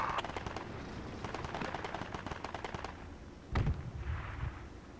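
Video game gunfire in a rapid automatic burst, then a single heavy boom, all fairly faint against a busy background.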